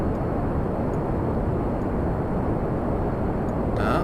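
A rocket engine in Kerbal Space Program throttles up into a steady, broad roar that holds loud and constant without pause, with no talking.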